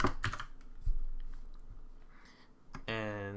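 Keys clatter on a computer keyboard as code is typed, a few sharp taps followed by quieter clicks, close and clear, with a voice starting up at the end.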